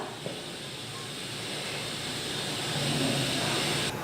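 Marinated fish frying in hot oil makes a steady, broad hiss that swells gradually and then cuts off near the end, moderately quiet and with no speech.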